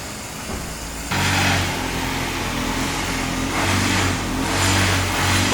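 An Audi S5 with a GMS catted downpipe and a stage 2 tune, its engine idling low and then stepping up to a louder, steady rumble that swells again near the end, with no talking.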